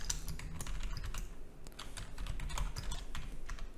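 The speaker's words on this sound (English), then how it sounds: "So let's type in that real quick." Computer keyboard typing while entering a find-session function in Unreal Engine 5, rapid irregular clicks of keys close and clear, alone without talk.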